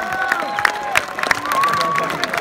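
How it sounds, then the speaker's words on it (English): A crowd at a basketball tournament event claps and cheers in a steady wash of applause, with sharp claps standing out and whistles rising above. "A round of applause for both of these gentlemen."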